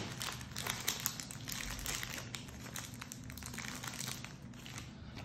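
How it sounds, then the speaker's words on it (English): Soft plastic sleeves crinkle and rustle as they slide over football trading cards, a continuous quiet crinkling close up with no talk. "I'll put a sleeve on those last two cards."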